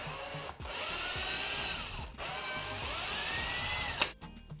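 A power drill whirs in two sustained bursts, each ramping up and holding a steady high whine, as screws are backed out of a wooden floating shelf piece for a bathroom vanity, ending with a brief clatter.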